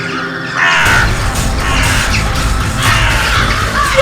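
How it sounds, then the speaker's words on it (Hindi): Many crows caw and squawk loudly and continuously, a dense overlapping flock close by, starting abruptly after a brief quiet moment. "इतनी सारी कौवे।"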